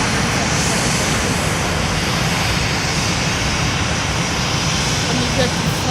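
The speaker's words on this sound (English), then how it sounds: "There is an arrival at Southwest. It is a Boeing" A Boeing 777 airliner arriving at Fort Lauderdale airport gives a steady, loud broadband engine roar that fills the whole stretch, with faint talk in the background.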